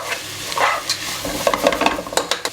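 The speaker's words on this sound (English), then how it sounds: "Mix that shit together and just fucking fry it off until it's kind of soft." Onions, peppers and garlic fry in a hot pan while being stirred, a close steady sizzle broken by scraping clicks of the utensil and crackling pops, with no talk.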